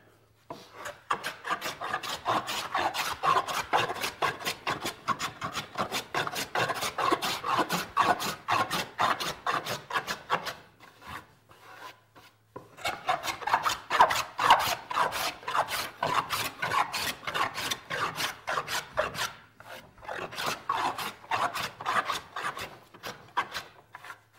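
A toothed plane blade rasps across a wooden board in quick repeated strokes, a dry scratchy scraping in two long bursts separated by a short pause.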